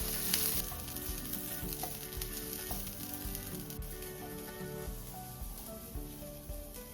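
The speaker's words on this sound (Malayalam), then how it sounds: "ഈ സമയം നമുക്ക് കുറച്ച് കറിവേപ്പിലയും കൂടി ഇട്ട് വറക്കാം." Curry leaves and masala frying in hot oil for a prawn theeyal curry, a close, continuous sizzle with crackling pops and occasional stirring scrapes, no talking.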